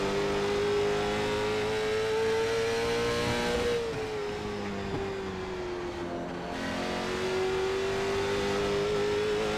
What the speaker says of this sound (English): I feel like the RPM's kind of chattering off the corner now though